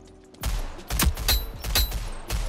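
Sharp pistol shots in Rogue Company, about five loud, distinct cracks spaced roughly a quarter to half a second apart, each punchy and close with a short decay.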